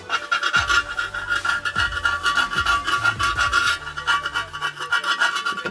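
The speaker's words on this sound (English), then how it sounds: "take like a flat nose screwdriver or a scraper or something" A scraper rasping bubbled paint off an engine cam cover, steady rough scratching strokes close by, continuous and fairly loud with no talking.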